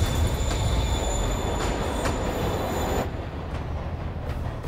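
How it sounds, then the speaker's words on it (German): A moving train in Marvel's Spider-Man rumbles steadily with metallic wheel squeal ringing on top, loud and continuous throughout with no voices. "Der Zug bewegt sich."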